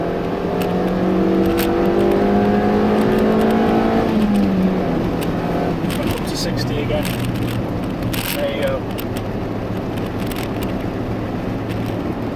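A car climbs the winding hill road of Strines Pass in second gear, its engine droning steadily and loud from inside the cabin, a rising tone easing off after a few seconds, with someone talking over it.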